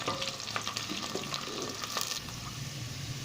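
Golden-brown onions frying with a ginger, garlic and green chili paste, a steady crackling sizzle with scattered stirring clatter, moderately quiet and continuous, no voice over it.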